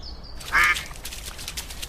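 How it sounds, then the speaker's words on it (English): Ducks in the video game A Date in the Park give a short, clear quack that stands out briefly over a steady outdoor ambience, followed by quieter background sound. "now we can see that the two ducks are back"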